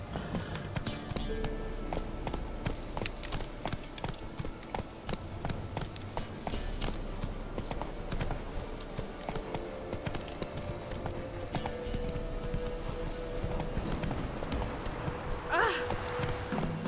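Roach, the horse in The Witcher 3 game, gallops with a steady, rapid clip-clop of hooves under game ambience, and a voice speaks over the hoofbeats.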